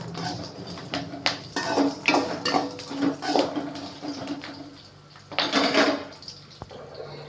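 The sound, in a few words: stirring curry leaves and green chillies in pan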